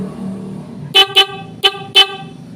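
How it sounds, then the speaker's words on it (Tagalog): A motorcycle horn on a Rusi Macho 150 honks four times in short, loud bursts, two quick toots followed by two more spaced apart, over a low engine hum. "Busina muna natin, walang passing light."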